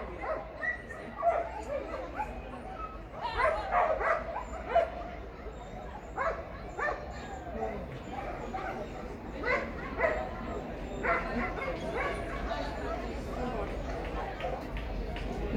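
Dogs at an international jumping competition, with scattered barks, yips and whimpers rising over a busy crowd and announcer talk, fairly close, in uneven bursts throughout.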